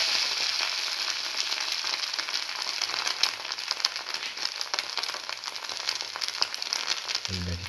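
A spinach omelette, flavoured with cinnamon and red spinach, fries in a pan after being flipped, giving a steady close sizzle with fine crackles that runs unbroken throughout.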